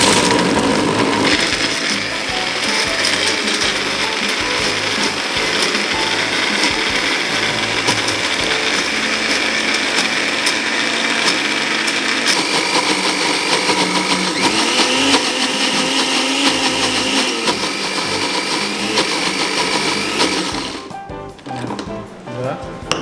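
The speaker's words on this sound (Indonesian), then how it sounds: "Ya sekarang kita haluskan aja." Kitchen blender grinding ingredients for Betawi-style nasi bakar semur, a loud, steady whirring roar that runs for about twenty seconds and then cuts off.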